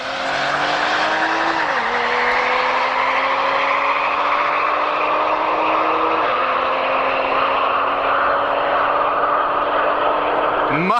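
An Audi SQ5 with a Stage 1 tune and an Integrated Engineering air intake launches down a quarter-mile drag strip, the engine roaring loud and climbing in pitch through several upshifts as it pulls hard and fades into the distance.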